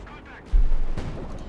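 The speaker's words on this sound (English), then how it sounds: "mortar fire on the German mortar" A single mortar shot in Company of Heroes 2, a sharp low thump that swells into a brief rumbling boom, with a second fainter report following and a voice talking over it.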